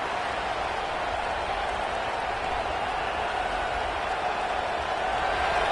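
Stadium crowd in a video game football match, a steady roaring wash of noise that stays even and loud throughout with no clear breaks.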